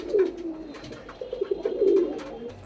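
Pigeons from a Bangladeshi collection cooing in a loft bedding room, several low soft coos overlapping close by in a steady murmur.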